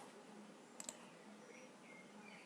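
Computer mouse clicking while opening Excel on a desktop, with two quick, crisp clicks close together, followed by quiet room tone.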